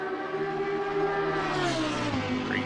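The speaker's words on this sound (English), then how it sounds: "Great sounding car." A Lamborghini Huracan EVO GT3 race car engine in Assetto Corsa Competizione at Zandvoort holds a steady, droning high-pitched howl at a constant gear, then its pitch sags slightly as it eases off, loud and alone without talk.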